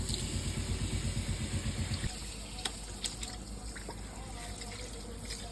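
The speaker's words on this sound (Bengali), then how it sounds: "এরপর এই যে হেয়ারটাকে ভালো করে আগে নর্মাল জল দিয়ে ধুতে হবে" Plain water rinses a fenugreek (methi) mask out of hair, with a steady trickling and splashing stream close by, a rhythmic pulsing for the first two seconds, then softer running water with occasional drips.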